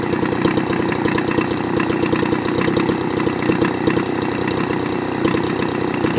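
A Homelite Bandit handheld leaf blower engine runs at a super low idle, a steady loud, rough two-stroke putter with rapid regular firing pulses throughout, close by and alone.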